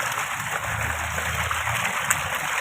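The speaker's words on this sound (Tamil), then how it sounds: "நீங்கள் பார்த்துட்டு இருக்கிறது தோட்டத்தில் பம்பு செட்டில் தண்ணி வந்துட்டு இருக்குது" Water gushes steadily from a pump set in a garden, irrigating coconut and banana plants, a continuous close rushing and splashing flow with no pauses.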